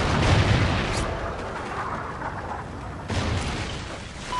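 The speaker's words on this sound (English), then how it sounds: "Friendly Trinity rocket inbound." A Trinity rocket strike in the Call of Duty Ghosts video game sets off loud, dense blasts that roll into a sustained rumble, with another heavy boom near the end.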